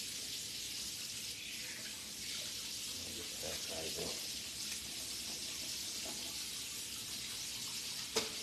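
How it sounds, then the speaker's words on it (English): Hot water runs from a kitchen tap during oxtail prep, a steady rushing stream that holds evenly throughout before a brief knock near the end. "Let me get myself some hot water."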